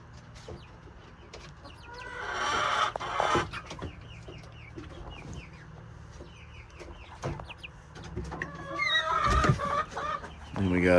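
Crossbred hens cluck and murmur close by in an enclosure, with a few louder squawks and scattered clucks among the flock.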